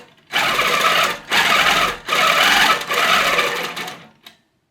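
Janome Versa 18 sewing machine quilting fabric in four bursts of rapid, close stitching separated by short pauses, ending with a brief click before silence.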